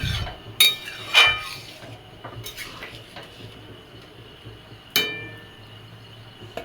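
Mung dal cooking with bottle gourd is stirred in a pot, with a few sharp metal spoon clinks against the vessel and quieter scraping between them, close and with no voices.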